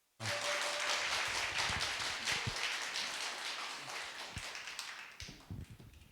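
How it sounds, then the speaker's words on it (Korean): Church congregation applauds to welcome a woman deacon to the front for a patriotic lecture, a dense burst of many hands clapping that starts abruptly, then thins and tapers into scattered claps near the end. "우리 박수로 환영하도록 하겠습니다"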